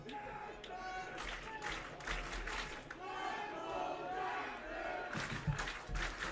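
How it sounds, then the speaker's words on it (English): Crowd at an independent-league baseball playoff game cheering and clamoring in the stands, a busy mass of distant voices and some clapping rising and falling throughout. "This Jackfish crowd is ready to cheer."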